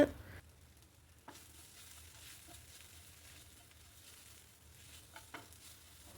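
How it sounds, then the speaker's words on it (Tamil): Fried okra poriyal being stirred with ground spice powder in a pan, a faint steady sizzle broken by occasional soft scrapes of the spoon. "வெண்டைக்காய் நல்லா குக் ஆகி இந்த மாதிரி உதிரி உதிரியாக வந்ததுக்கப்புறம் நம்ம கிரைண்ட் பண்ணி வச்சுருக்க பவுடரை சேர்த்து நல்லா மிக்ஸ் பண்ணி விட்டுருங்க."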